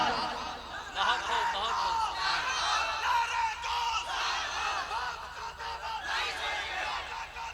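A crowd at a Muharram gathering shouts the Nara-e-Takbir slogan loudly and continuously, massed voices filling the space with cheering and shouting for the full length.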